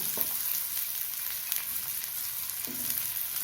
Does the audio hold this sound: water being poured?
no